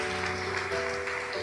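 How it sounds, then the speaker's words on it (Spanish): Applause from a church congregation during a worship service, a steady dense wash of clapping filling the room, with faint voices and music mixed underneath. "Denle un aplauso a Dios"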